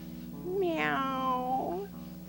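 A cat in a children's story meows in a long, drawn-out, wavering cry, loud and close, heard alone.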